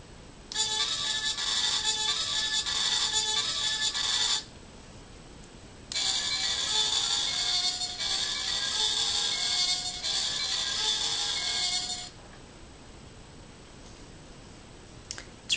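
A Sailor Moon toy wand plays two loud bursts of tinny, buzzy electronic chiming, each lasting a few seconds with a short gap between, close and alone.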